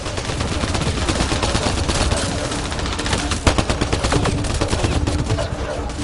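Dense, relentless gunfire from the sci-fi shooter Mass Effect Andromeda, with rapid automatic bursts and overlapping shots forming a continuous loud barrage across the whole stretch, and one sharper crack standing out near the middle.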